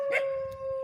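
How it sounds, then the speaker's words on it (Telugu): A single short dog bark or yelp rings out faintly and briefly over a steady background tone, with no talking. "కుక్కలు కుక్కలుగా ఉండండి"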